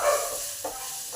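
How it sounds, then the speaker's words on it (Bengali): Chana dal and urad dal fry in hot oil, making a short, steady sizzle with a couple of soft stirring scrapes close by. "এবার ছোলার ডাল আর বিউলির ডালটা দিয়ে দিলাম। এবার এটা একটু ভালো করে ভেজে নেবো।"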